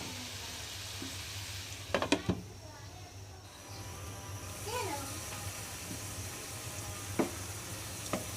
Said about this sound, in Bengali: এবার আলুর লগে সয়া বড়িটা আমি ভালো মতো কষাবো আর একটু।